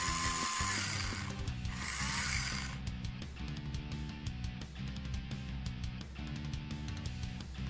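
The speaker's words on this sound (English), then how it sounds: "I'll be attaching a ball sanding bit to sand down the seam inside." A steady electric drill with a ball sanding bit whirs continuously at close range, its tone wavering slightly as it grinds a seam inside a plastic Gundam model kit, with no talking.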